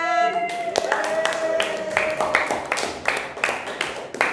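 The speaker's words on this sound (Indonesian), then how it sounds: "Oke, tepuk tangan untuk semuanya." A classroom audience claps for everyone after a word wall activity, a burst of clapping rising over a fading voice at the start, then continuing as steady, fairly close applause.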